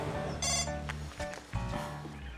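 Telephone rings in a dramatic TV series scene, a bright trilling bell repeating in short bursts over background music and room sound, with no speech.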